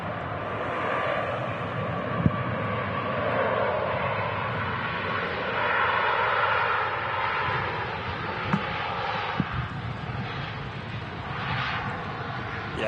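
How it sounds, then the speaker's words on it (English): Ryanair Boeing 737 Max landing on the runway at Manchester Airport, a steady broad jet roar that holds for the whole stretch, with a couple of sharp clicks and faint talk beneath. "arriving on the runway here is the Ryanair Max"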